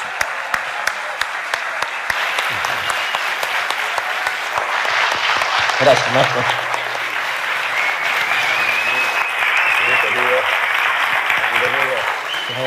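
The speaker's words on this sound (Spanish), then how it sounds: "Fuerte el aplauso para ellos." An audience breaks into sustained applause for two presenters at a live talk, with dense clapping filling the room for several seconds while a voice speaks briefly over it.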